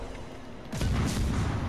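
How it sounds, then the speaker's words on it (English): French destroyer Jurien's naval cannons in World of Warships: Legends let off a loud, booming broadside after a short quiet lead-in, with rumbling blasts that carry on to the end. "Jurien's cannons were massive, absolutely massive."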